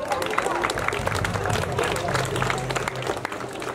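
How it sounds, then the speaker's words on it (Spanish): A crowd at an outdoor Day of the Cross celebration in San Rafael, Chalatenango, El Salvador, claps continuously in a warm round of applause, with some talk and murmuring mixed in. "otro caluroso aplauso para ellos."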